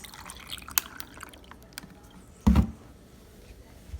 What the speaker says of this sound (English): Stoke cold brew coffee. I pour it over ice.